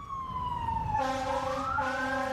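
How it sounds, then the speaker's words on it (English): A wailing emergency siren sweeps up and down at an active shooting scene, joined by a second siren partway through, loud and steady against street noise. "Still an active scene here behind me, so you can hear that siren."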